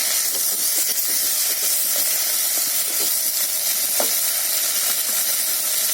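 Two tomatoes sautéing in a hot pan for a brinjal and chana dal curry make a loud, dense, continuous sizzle and hiss, with faint stirring scrapes now and then.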